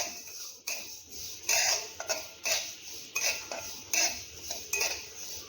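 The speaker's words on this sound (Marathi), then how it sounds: "हे दोन्ही एकत्र आपण या कढईमध्ये भाजून घेणार आहोत" Niger seeds and white sesame dry roasting in a kadhai, with a spatula scraping and stirring in steady strokes against the metal pan, close and fairly quiet, with no talking.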